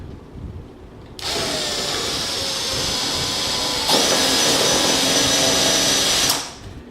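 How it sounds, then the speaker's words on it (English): A handheld drill with a Forstner bit countersinks a screw hole in wood, whirring steadily at close range for about five seconds, its pitch and loudness stepping up partway through before spinning down. "I'm going to use another Forstner bit to kind of countersink that hole for that screw head"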